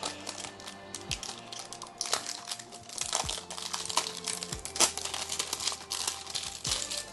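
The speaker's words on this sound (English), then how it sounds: "So it's shrink wrap, so definitely gotta rip the wrapping out." Plastic shrink wrap is torn and crinkled off the packaging of a hexagon-style flip timer, a steady stream of close crackling and rustling with sharper rips throughout.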